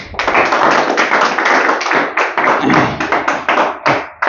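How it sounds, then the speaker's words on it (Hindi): Loud, close applause at a Bihar Diwas discussion event on the state's development, a crowd clapping briskly and steadily for about four seconds, with brief dips near the end. "इसके लिए एक बार बढ़िया से ताली हो जाए"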